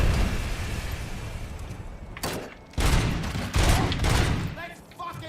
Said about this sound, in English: he's got like a mounted machine gun.